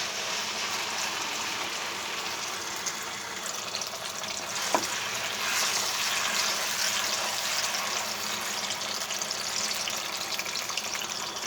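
Three tomatoes' worth of tomato paste hits hot oil in a pan for Pakistani aloo matar, giving a steady, close sizzle and frying hiss that continues without a break.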